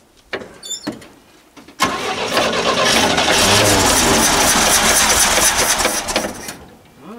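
A 1964 GMC Custom Cab pickup's 305 V6, starting for the first time in 15 years, cranks in a few short bursts, then catches and roars into a loud, rough, close idle that runs steadily before easing off.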